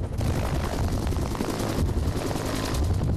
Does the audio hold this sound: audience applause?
no